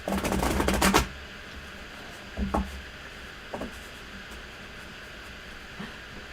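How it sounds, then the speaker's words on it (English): A tarot card deck is shuffled in a quiet room: a burst of rapid riffling cards, then a few soft, isolated taps and rustles. "I am shuffling the deck with Sunny on my arm here."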